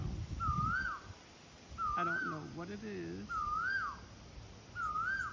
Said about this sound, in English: Listen to that bird in the background.